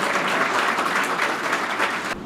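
Audience applause at a speech event, dense and steady throughout, loud and sustained before cutting off abruptly at the end.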